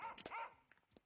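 A wild dog barks and yelps, a loud near cry followed by a few fainter short yips, with no talking.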